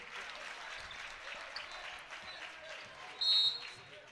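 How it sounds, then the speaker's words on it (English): Home fans at Pete Henry Gymnasium keep a slow, rhythmic clap going during a girls' basketball sectional final, the clapping faint and distant under a commentator's voice, with a brief sharp tone near the end. "We got the slow clap rolling through now"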